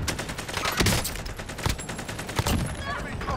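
Video game gunfire from Call of Duty Cold War Warzone, with repeated sharp shots and bursts over a dense, busy battle mix, mixed with other game sounds throughout.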